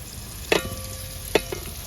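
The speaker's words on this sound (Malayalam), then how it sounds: "സവളയും കൊച്ചുള്ളിയും വെളുത്തുള്ളിയും കൂടി ഇട്ട് കൊടുക്കാം" Onions, shallots and garlic fry in oil with a continuous close crackle, broken by two sharp utensil clinks against the pan about a second apart.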